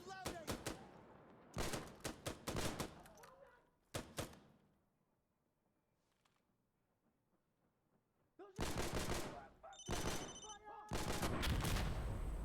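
Close-range gunfire in the tactical shooter Insurgency Sandstorm, loud bursts and rapid volleys in several clusters separated by a quieter lull, with heavy sustained fire toward the end.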